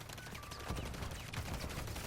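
Gunfire in the Call of Duty MWIII video game, shooting through a wall with armor-piercing rounds: a quick, rapid burst of faint shots, heard alone.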